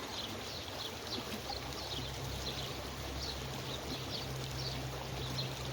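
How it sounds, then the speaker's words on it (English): Water trickles and burbles steadily along a little creek, a soft continuous stream with faint chirping overhead, no voices. "Seems like there's a lot of water in this"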